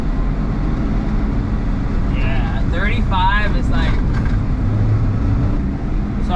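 A Suzuki Jimny JA11 engine accelerates through its short gears on a city drive, a loud steady drone with road and wind rumble heard from inside the cabin, and a voice talking briefly over it.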